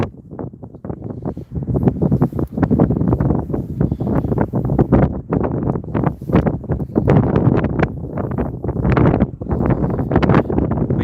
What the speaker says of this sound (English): Yes, it is a very, very windy day here. Very, very windy.